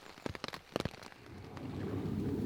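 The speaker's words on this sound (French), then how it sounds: "Bon aujourd'hui il pleut." Steady rainfall patters and hisses, preceded by a few sharp knocks or taps near the start.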